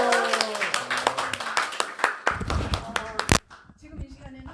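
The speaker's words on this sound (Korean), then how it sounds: "박수 부탁드립니다." Scattered claps from a church group's audience during a panel discussion, irregular and fairly close, mixed with voices, fading out before a few quiet seconds.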